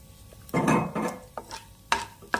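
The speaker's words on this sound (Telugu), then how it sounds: "ఆయిల్ హీట్ అయ్యాక ఫస్ట్ పచ్చిశనగపప్పుని ఆయిల్లో వేసుకొని లైట్గా ఫ్రై చేసుకోవాలి" Raw chana dal dropped into hot oil in a pan gives short bursts of sizzling and a few light scraping stirs, close and fairly loud, with no voices.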